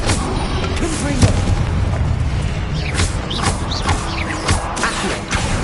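Spell blasts in a Hogwarts Legacy duel boom out one after another, with sharp crashes and bangs while a voice calls out over the fighting.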